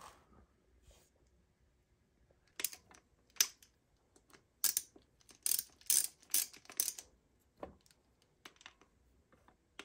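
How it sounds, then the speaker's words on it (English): A ratchet tightens two 10 mm bolts on an XR200 motorcycle engine during a top-end rebuild, with quiet bursts of quick clicking strokes separated by pauses, close and clear in a still workshop. "Got the two 10 millimeters tightened down."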